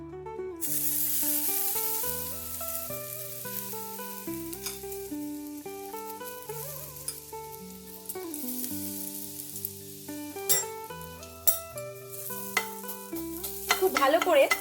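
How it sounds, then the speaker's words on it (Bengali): Curry leaves are stirred and dry-roasted in a dry pan over low flame while cooking aloo dum, giving steady scraping and soft sizzling under background music, with a few sharper clicks near the end. "কারি পাতাগুলো ধুয়ে নিয়ে শুকনো খোলায় নেড়ে নেব।"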